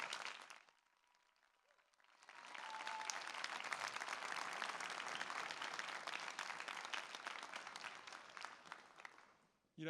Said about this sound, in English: I'd like to ask the class for a huge round of applause for the audience